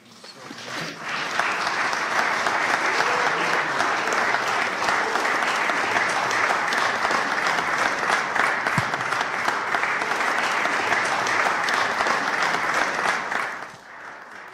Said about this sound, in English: Give her a wonderful hand clap.